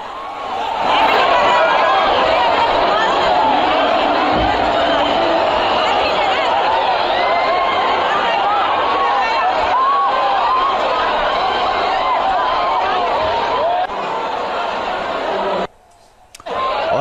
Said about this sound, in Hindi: कैसे मंच पर चढ़ने को लेकर लोगों में भगदड़ जैसी स्थिति बन गई है